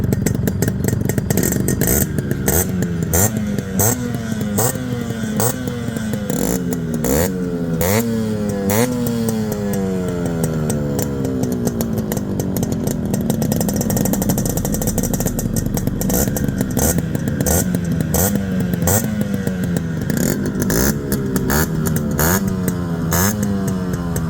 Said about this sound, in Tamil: ஸோ இப்போது இந்த 2 வண்டியோட பீட் சவுண்டு கேட்கலாம் வாங்க.